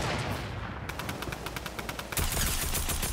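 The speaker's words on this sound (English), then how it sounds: "Yo, combat shotgun." Rapid, loud gunfire in the Fortnite Battle Royale video game, a combat shotgun among quick repeated shots that turn into a denser burst near the end, close and with no speech.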